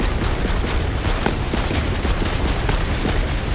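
Dense, continuous bursts of rapid gunfire in Borderlands 3 fill the whole stretch, loud and close, with overlapping shots and no talk.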